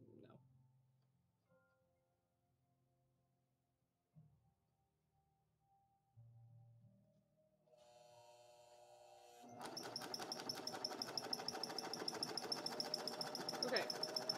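A serger sewing machine stitching neon ripstop nylon for saddlebags starts up after quiet handling noises and runs in a steady, fast mechanical whir through the last few seconds.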